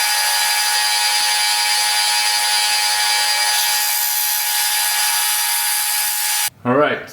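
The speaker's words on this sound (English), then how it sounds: "I'm drilling down 6/8 of an inch" A steady, high whining drone of a milling machine drilling into metal for a motorcycle axle plate runs unbroken, then stops abruptly and a brief voice follows.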